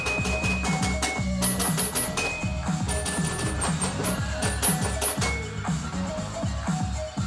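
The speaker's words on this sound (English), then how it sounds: "I was playing the xylophone." A xylophone played with a steady run of struck, ringing bar notes, each hit decaying quickly as the next lands, fairly close and continuous with no talking.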